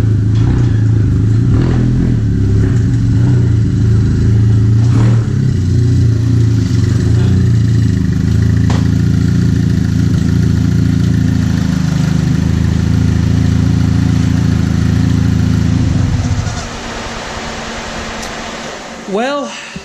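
Engine of a Chevrolet Cobalt idling steadily with a loud, low droning hum for most of the time, then dropping away as it shuts off, leaving a quieter background with a brief whine near the end.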